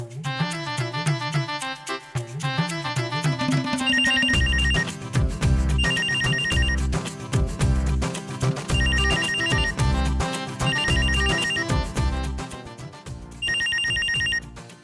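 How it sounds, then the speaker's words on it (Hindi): A landline telephone rings with a loud electronic ringtone melody that repeats in steady bursts, heard clearly on its own with no talking. "कॉल आ गया भाई। इस दौर में भी लैंडलाइन पे फोन करते हैं"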